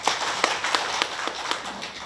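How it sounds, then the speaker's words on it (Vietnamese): Audience at a village community solidarity festival meeting in Tráng Vũ, Đồng Than, clapping in a brisk, fairly sparse rhythm of sharp individual claps for about two seconds. "xin cho một tràng pháo tay."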